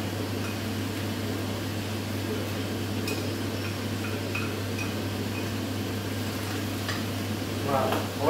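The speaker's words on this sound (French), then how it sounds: "On va les faire revenir à feu doux, bien sûr." Garlic and mushrooms sautéing gently over low heat in a pan, a steady close sizzle with occasional stirring scrapes and a constant background hum throughout.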